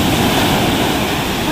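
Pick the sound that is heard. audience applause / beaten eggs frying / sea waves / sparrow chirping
sea waves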